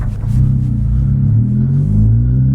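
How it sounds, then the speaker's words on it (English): A 2020 Honda Civic Type-R with a track exhaust drives over a big bump on a beach road, giving a loud, steady low rumble of engine and road noise with a slight swell partway through. "there's a big old bump in the road"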